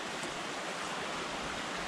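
Bolens Creek on the Black Mountain Crest Trail rushes steadily close by, a dense, even wash of flowing water that fills the clip with no other sounds.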